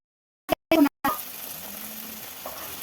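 Masala for an okra gravy frying in a pan and being stirred, a few sharp scrapes at the start followed by a steady, soft sizzle that carries on alone.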